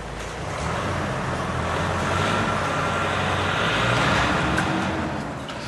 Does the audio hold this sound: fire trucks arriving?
yes